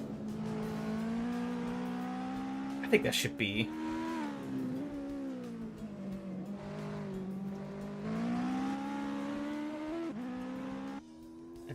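A loud race car engine in the Assetto Corsa racing game drones steadily with shifting pitch as it revs and shifts, with a brief burst of harsher noise early on, while someone talks over it.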